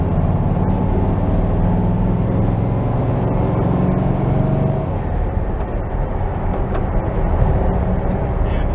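A VW bus engine with a failing transmission runs steadily in a continuous dense rumble, loud and close, with some rattly mechanical texture and no voices.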